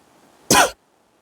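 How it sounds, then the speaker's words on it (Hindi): A single short, sharp cough from a teacher during an online quiz class, close and loud, bursting out of near silence and stopping abruptly. "बस खांसी आ रहा है, पता नहीं क्यों"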